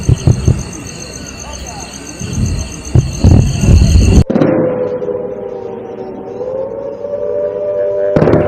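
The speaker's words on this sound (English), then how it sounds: "You can hear air raid sirens and explosions in the background." Air raid sirens wailing in Samba, Jammu, a sustained high warbling tone carrying through, with a few sharp bangs and thuds early on and background noise around them.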